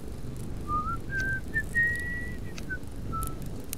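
A person whistles a thin, wavering tune of several held notes and slides, clear and fairly close, over a quiet hiss of background noise with no talking.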